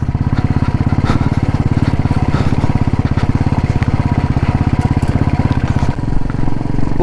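A motorcycle engine labours loudly and steadily under load while climbing a high mountain road from Jispa to Sarchu in Ladakh, with a rapid, even exhaust throb throughout.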